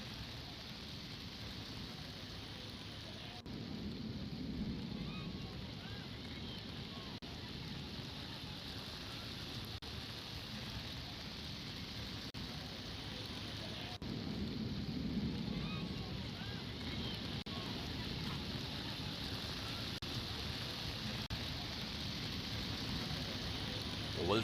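Heavy, unseasonal rain pours steadily outdoors during a Chhath Puja gathering in Valsad, a dense continuous hiss with a few faint rumbles underneath.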